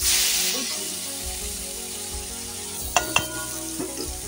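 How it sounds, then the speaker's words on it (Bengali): Black cumin seeds tempering in hot oil with potato filling, giving an initial loud hiss that fades into a softer frying crackle, with a couple of sharp spatula knocks against the pan near the end. "ওই তেলের মধ্যে আমি অল্প করে একটু কালো জিরে ফোড়ন দিয়েছি"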